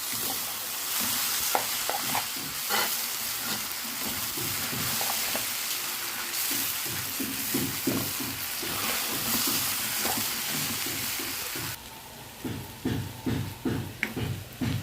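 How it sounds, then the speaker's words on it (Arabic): Rice and vermicelli stirred and sautéed in a pot for Egyptian koshari: a steady close sizzle of frying with repeated rhythmic scraping and stirring strokes throughout, no voices. "الرز اتشوح حلو"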